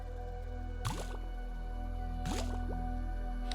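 Collecting water in the survival video game Grounded makes two distinct liquid drips about a second and a half apart, each a squishy plop over a steady low background hum.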